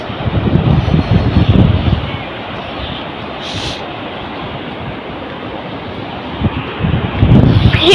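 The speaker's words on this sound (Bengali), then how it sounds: "হেভি হাওয়া দিচ্ছে।" Strong wind at the Mandarmani seaside buffets the microphone in heavy rumbling gusts, loudest at the start and end, over a constant roar of surf. A faint voice can be heard beneath it.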